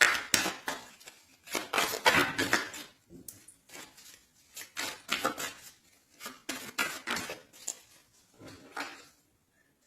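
Tarot cards being shuffled by hand, giving repeated papery riffling and slapping bursts in quick clusters with short pauses between, close and fairly loud, with no voices.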